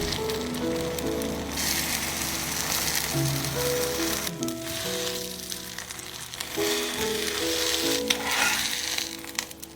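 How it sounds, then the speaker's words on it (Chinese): An egg frying in a non-stick pan gives a steady, soft sizzle and crackle under background music. "锅一定要是不粘锅，蛋也不要煎得太熟"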